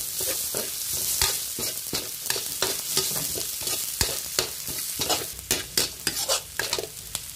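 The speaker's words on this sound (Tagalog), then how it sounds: "Tapos, igisa na natin ang bawang." Garlic and onion sautéing in a hot pan, a steady sizzle broken by a string of sharp scraping strokes from a stirring utensil, close and fairly loud, no voices.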